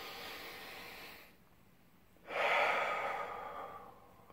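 Slow deep belly breathing as a relaxation exercise, with a soft airy exhale, a brief quiet pause, then a louder, fuller inhale rushing in up close.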